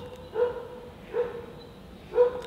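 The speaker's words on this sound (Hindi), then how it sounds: "और कुत्ते देखो सच में भौंकने भी लग गए" Dog barking, three separate barks spaced apart, moderately faint at a distance over a quiet background, with no talking.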